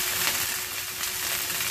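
Pork rolls wrapped around tofu fry in a pan, giving a steady, close, hissing sizzle that carries on evenly with no talk.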